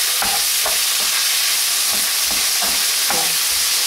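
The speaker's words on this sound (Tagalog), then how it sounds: "continue frying hanggang maluto yung onion" Onion and potato fry in a pan, a loud, steady sizzle broken by repeated scraping strokes of a spoon stirring about every half second, with no one talking.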